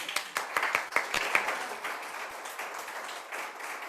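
Scattered clapping from a small audience, a burst of hand claps that thins out into lighter, fading applause.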